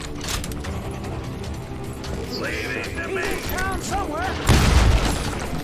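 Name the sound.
gunfire in the street, video game Call of Juarez Gunslinger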